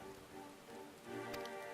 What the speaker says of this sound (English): It adds that it's raining.